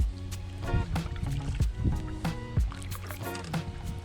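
A kayak paddled solo across a calm lake at Hartman Creek State Park, Wisconsin: close, rhythmic paddle strokes splash and drip in a regular pattern, with nothing else around.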